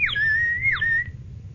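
A toy bird-imitating whistle is blown twice, each a quick warbling chirp sliding into a sustained bright tone, thin and fairly close over a faint low hum.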